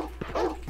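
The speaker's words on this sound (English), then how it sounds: "More dogs. Oh, boy. That's a lot of dogs." Dogs in the We Hate Mondays video game demo give a brief burst of yips and whimpering barks, close and moderately loud, over a faint electronic hum.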